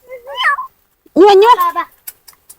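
A kitten mews twice in high, wavering cries, the second longer and louder, with a few soft clicks after.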